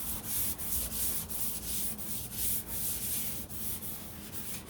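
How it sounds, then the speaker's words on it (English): Steady rhythmic hand-sanding strokes rasp back and forth across a 1969 Corvette body panel, close up and even in pace, with no voices. "You can feel the roughness when you're sanding, and it'll go away when you start sanding."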